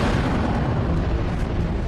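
A sound effect of an antimatter explosion: a loud, sustained roaring blast of dense, broadband noise that holds steady without any break, with no voices.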